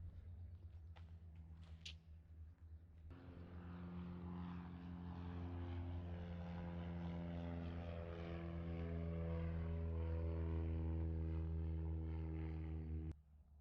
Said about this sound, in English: So I think it's time we pull the plane out and go for a little flight